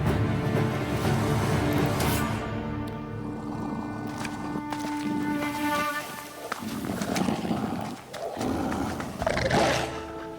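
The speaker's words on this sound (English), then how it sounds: "Please tell me we get to befriend this wolf in the game." Low, rumbling growl of a wolf in the Ghost of Yotei game trailer, set in Japan, sustained under swelling orchestral music with deeper snarling bursts near the end.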